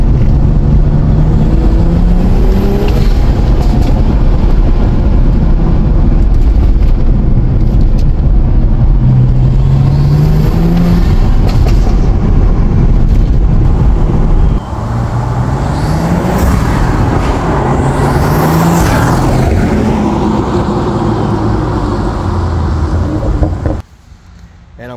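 A car fitted with a Dinan intake and inlet revs repeatedly, its engine rising and falling in loud swells close by, with a deeper surge toward the end before cutting off.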